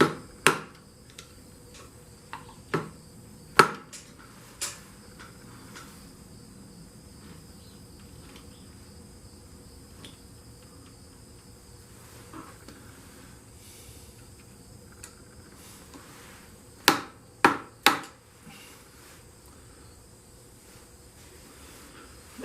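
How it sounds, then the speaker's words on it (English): Light metallic taps on a part of a 1973 Yamaha AT3 motorcycle: a couple of sharp clicks early on, then a quick cluster of three near the end, close and crisp over a quiet room. "Let's just give him a couple of little taps."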